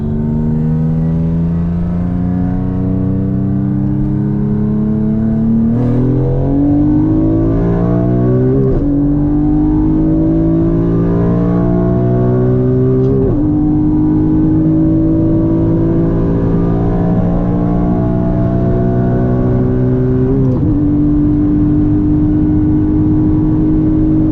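A Nissan Maxima with a VQ35DE V6, its rev limiter raised past 8000 rpm, pulls hard on the highway, engine note climbing in pitch through repeated gear changes, loud and close from inside the car.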